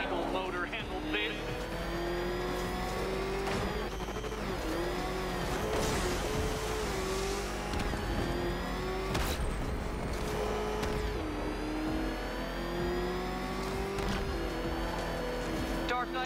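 A car engine hums and revs steadily while driving in the video game Batman Arkham Knight, with tire squeals and game effects layered over it and voiced dialogue running throughout.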